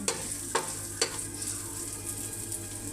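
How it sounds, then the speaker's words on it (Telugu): Onions and chillies frying in a pan, with a steady close sizzle and three sharp scrape-like clicks of a spoon early on, then continuous crackling hiss. "కొంచెం ఆనియన్ ఆనియన్, చిల్లీ వేసుకుని కొంచెం ఫ్రై చేసుకోవాలి"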